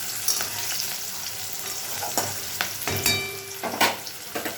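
Mustard and poppy seed paste sautéing in a pan where spiny gourd was just fried, a steady close sizzle broken by several sharp spatula scrapes and clinks, no voices.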